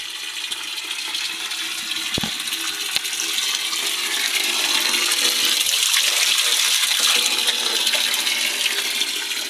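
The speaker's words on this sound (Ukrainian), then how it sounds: "Це джерело святе, назване іменем святого." Water pours steadily from a holy spring in Roskilde, Denmark, a loud continuous splashing rush with a couple of brief knocks near the start and no talk.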